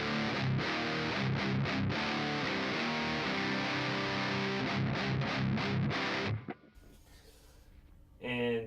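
Heavily distorted electric guitar through a Kemper amp profile with bass cut and mids and treble boosted, chugging palm-muted riff, loud and close, stopping abruptly into near silence before a final hit.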